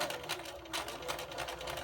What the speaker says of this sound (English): Now we have to move to the sewing machine to begin sewing.